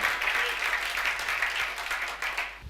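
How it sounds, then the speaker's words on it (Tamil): An audience claps during a Tamil Bible study gathering, a steady patter of hand claps filling the whole stretch at moderate loudness with no voices on top. "கைத்தட்டுங்க அவருக்கு"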